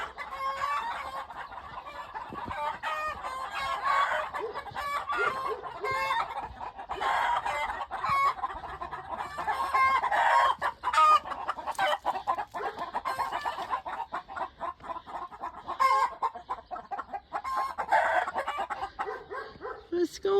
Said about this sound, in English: now there's a big ruckus with the chickens